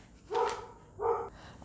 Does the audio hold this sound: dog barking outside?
yes